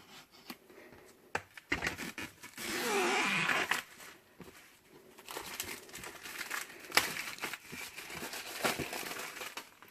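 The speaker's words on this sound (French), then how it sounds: "Emballage cellophane." Cellophane wrapping on a boxed BMW Navigator 6 GPS unit crinkles and crackles close up in irregular bursts. A longer rustling stretch comes early, then scattered sharp crinkles follow, with no talk.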